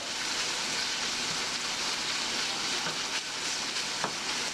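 Pork bacon fries in a pan with a dense, even crackling sizzle that holds steady at close range throughout, with no talking over it.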